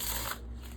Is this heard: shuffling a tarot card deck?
yes